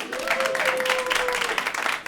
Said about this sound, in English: Applaud if you're from New Jersey.